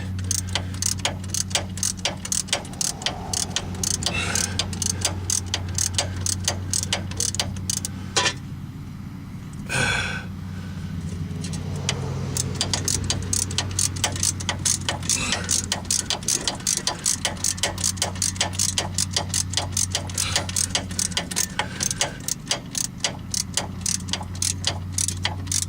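A hand ratchet tightening the wheel hub bolts on a 2008 Chevy Trailblazer clicks in rapid, close bursts of ticking strokes, pausing briefly partway through before resuming.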